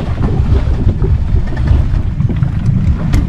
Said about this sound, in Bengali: উঠে গেছি স্পিড বোটে। চলুন দেখা যাক স্পিড বোট রাইড করে কেমন লাগে।